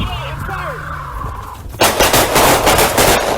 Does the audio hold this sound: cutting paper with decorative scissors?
no